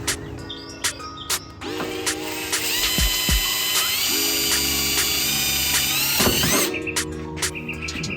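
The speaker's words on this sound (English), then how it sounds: "Give it a little spot so I can drill it." A power drill bores a hole into the trunk lid of a Mazda Miata, its steady high whine running several seconds between short starts and stops, close and loud.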